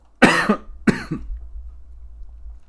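Two hoarse, close coughs from a man on a live stream, spaced about half a second apart, each with a short raspy tail, followed by quiet room noise.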